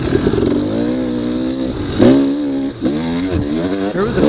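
A dirt bike engine revs hard and close during a Battlecreek D14 hare scramble race, pitch climbing and dropping with throttle changes over a few seconds, with no speech.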